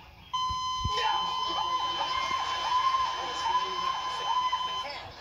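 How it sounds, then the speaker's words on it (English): A handheld metal detector sounds a steady high electronic tone after a short click, holding continuously with slight wavering for several seconds, close and fairly loud. "filings that can be picked up by this metal detector. See, it works just like this."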